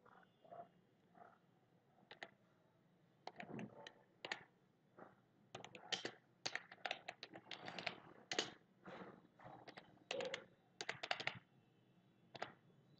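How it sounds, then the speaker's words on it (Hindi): Typing on a computer keyboard while entering text in MS Word 2010, a steady run of quick, close key clicks in irregular bursts with short pauses between. "अगर आपको कुछ भी टाइप करना है तो आप यहाँ टाइप कर सकते हैं।"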